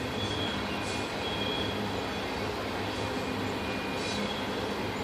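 Full-speed coal train passing at a distance, a steady, faint broadband rumble and roar that holds level throughout with no voices.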